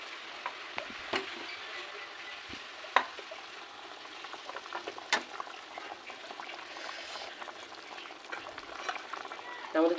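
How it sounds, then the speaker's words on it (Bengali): Pieces of bhetki fish slipped one by one into a boiling mustard and poppy seed gravy, giving a steady bubbling simmer with soft sizzling and a few sharp clinks and splashes, moderately close. "এবার এর মধ্যে এক এক করে মাছগুলো ছেড়ে দেবো।"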